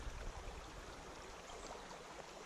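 A cold trout stream in central Pennsylvania flows with a soft, steady babble, fairly faint and continuous, with no voices over it.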